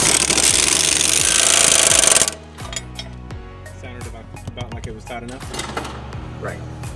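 A power tool tightens the lower fork mount bolt during an air ride suspension install on an Audi SQ5, a loud continuous rattling burst for about two seconds, then stopping, with people talking afterward.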